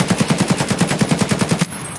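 Rapid automatic burst from an AKM rifle firing BP rounds in Escape from Tarkov, about fifteen evenly spaced loud shots over a second and a half, then a short ringing tail.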